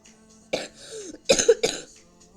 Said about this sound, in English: actually, I'm having cough.